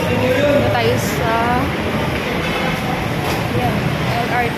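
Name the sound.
LRT light rail train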